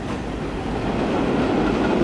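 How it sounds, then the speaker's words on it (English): A train pulls out of a station in the railway game Transport Fever 2, on a UK mainline: a steady, fairly loud rolling rumble that slowly builds as it gathers speed, with no voices. "This train is now leaving the station."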